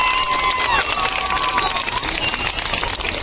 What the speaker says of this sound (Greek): Θερμό χειροκρότημα για τα παιδιά μας.